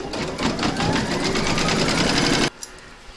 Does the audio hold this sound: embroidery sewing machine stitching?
yes